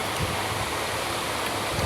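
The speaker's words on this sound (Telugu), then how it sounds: "చూడండి ఎంత బాగా వేగుతున్నాయో." Potatoes fry in hot oil in a home kitchen pan, a steady dense sizzle and crackle filling the space close by, continuous with no talk.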